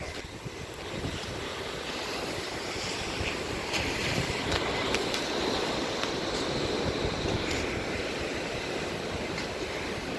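Ocean surf rolls in steadily beside a seaside boardwalk, a continuous wash of waves mixed with light breeze and wind buffeting the microphone, with no voices.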